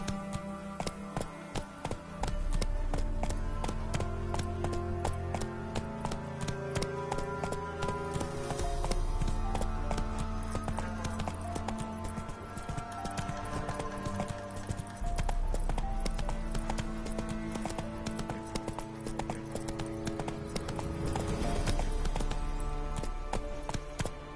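Horse Roach gallops in The Witcher 3, a steady rhythmic clip-clop of hooves running for the whole stretch, loud and close, under a full orchestral music score.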